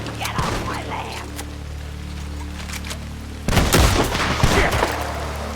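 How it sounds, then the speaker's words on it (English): A double-barrel shotgun fires in Red Dead Redemption 2: scattered cracks early on, then a loud, close blast that leaves a dense, rumbling tail over steady game ambience. "shoot at you with a double-barrel shotgun"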